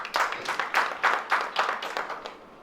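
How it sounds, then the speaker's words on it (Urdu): Light applause for Yusuf Yalgaar at a poetry gathering, a small audience giving a brief patter of claps in several quick bursts, close and fairly soft, fading at the end. "میں چاہتا ہوں کہ یوسف یلغار صاحب کے لیے ایک ہلکی سی تالی"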